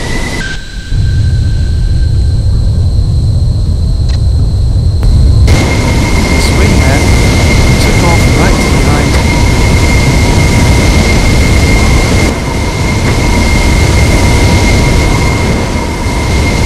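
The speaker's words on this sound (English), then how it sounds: "Major Tom took off from the airbase." Military jet aircraft taking off from an airbase runway, a loud, continuous engine roar with a steady whine, close and dominant throughout.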